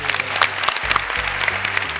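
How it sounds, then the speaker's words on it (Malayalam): Applause from the audience at a Malayalam comedy stage show, a dense burst of clapping filling the whole moment, loud and close with crowd noise mixed in. "എല്ലാവരും ഒരു കൈയടി കൊടുത്തോളൂ."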